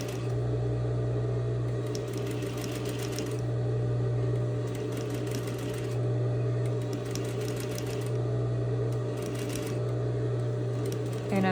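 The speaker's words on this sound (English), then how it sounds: "I'm going really, really slowly because I really am trying to stitch right next to that fold line." A sewing machine runs slowly, stitching a seam right next to a fold line with contrasting thread, a steady close mechanical whir with brief bursts of faster needle clatter and a low hum throughout.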